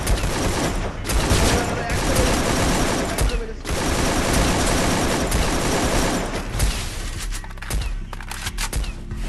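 Battle royale video game gunfire, dense rapid automatic bursts crackling almost nonstop, loud and busy, with players talking excitedly over the shooting.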